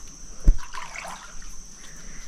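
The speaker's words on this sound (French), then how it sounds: "on est allé se rafraîchir un peu dans la rivière" River water in the Amazon where people are bathing: a close splash and slosh followed by soft trickling and dribbling water, quiet and near, with no talking.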